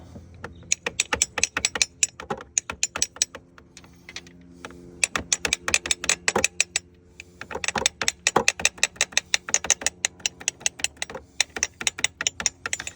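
Rapid metallic tapping repeats in irregular bursts, hard clicks of a socket knocking against a camshaft seal on a 2006 Volvo S60 T5 engine, close and dry with short pauses between runs.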